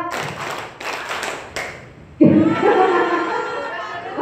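Junior high students in a classroom clap a counted rhythm: a few sharp group claps in quick succession, then a loud burst of many voices and noisy clapping from the whole class.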